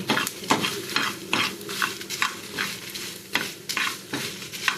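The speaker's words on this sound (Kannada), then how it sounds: "ನಾನು ಚೆನ್ನಾಗಿ ಫ್ರೈ ಆಗಲಿ ನೋಡಿ" Chopped onion and tomato fry in a pan for jackfruit curry, with a close, bubbling sizzle and repeated rhythmic scraping strokes of a spoon stirring throughout.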